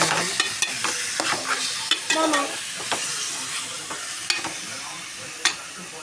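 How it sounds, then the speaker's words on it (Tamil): Chicken is stirred in a sizzling pan, with a continuous frying hiss and frequent close spatula scrapes and taps against the metal. "சிக்கன் நல்லா கிண்டி"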